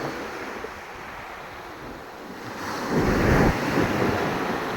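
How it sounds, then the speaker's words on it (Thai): Waves wash onto a sandy beach with a steady cool wind buffeting the microphone, the surf swelling louder near the end as a breaker rolls in; no one speaks. "วันนี้คลื่นดีจริง"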